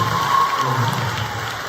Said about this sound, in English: let's give her a round of applause right over here